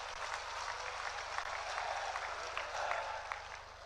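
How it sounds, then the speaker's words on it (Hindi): A large crowd claps continuously at an outdoor election rally, with dense, even applause carrying on through the whole span. "आपकी तालियों की गड़गड़ाहट में जो मैं उत्साह देखता हूं"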